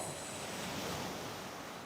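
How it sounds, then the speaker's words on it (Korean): Sea waves as a sound effect in a Korean radio drama, a steady broadband wash of surf with a faint wind-like hiss, continuous and fairly quiet with no voices. "파도 소리 들려오고."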